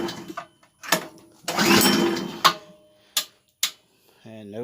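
An engine on a gasoline air compressor is cranked repeatedly but does not start. Several sharp, separate churning bursts are heard close up, one longer than the rest, with short quiet gaps between them and a brief voice near the end.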